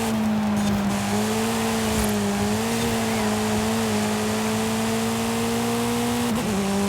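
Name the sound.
car engine racing in video game Forza Horizon 5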